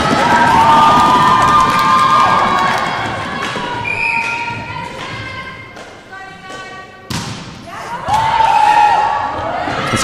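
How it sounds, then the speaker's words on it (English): Lancaster supporters at a men's volleyball match cheer and shout loudly in an indoor hall, a sustained crowd roar with whistles and sharp ball thuds, rising again near the end, with a commentator talking over it. "that's the noise you can hear out is the Lancaster faithful cheering on their team"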